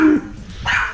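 Dogs bark sharply and aggressively at close range in short bursts, with a brief yelping tone, during an orienteering run through a shopping centre area.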